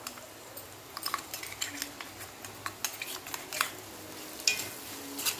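Utensil scraping and clinking against a pan as bitter gourd curry is stirred with spice paste, a run of light, irregular metallic taps and scrapes at close range with no voices.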